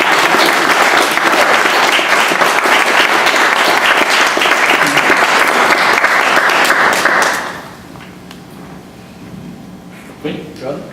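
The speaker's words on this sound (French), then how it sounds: "Déjà, on l'applaudit." Loud, dense audience applause in a conference hall after a talk, sustained for about seven seconds before cutting off abruptly into quiet room tone with a faint stir near the end.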